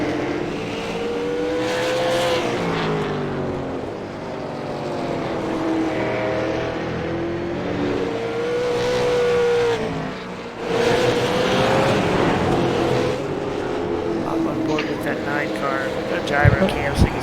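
Limited super late model race cars lap a banked oval, engines roaring and rising and falling as drivers work the throttle, a steady near-continuous drone with a commentator talking over it throughout.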